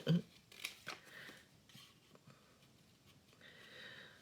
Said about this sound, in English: it came in handy because I needed to cut some string